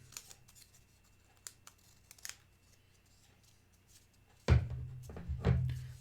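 Scissors trim a paper nose cone anchor for a homemade rocket with a few quiet, close snips, followed by louder handling thumps and rustling near the end.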